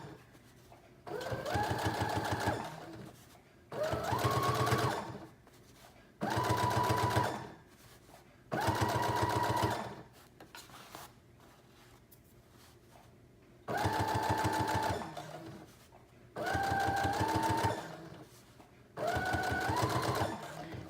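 A sewing machine stitches a seam on a high-waisted denim skirt in seven steady bursts of a few seconds each, whirring and humming near and clear, with short quiet gaps between runs and no talk.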